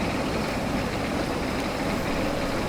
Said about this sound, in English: it must be so loud having the engine right there next to our head